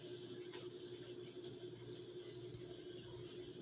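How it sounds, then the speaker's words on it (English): Soap batter being poured from one container into another, a steady, soft liquid trickle and splash that runs continuously at low level with no talk. "pour off part of this into another container"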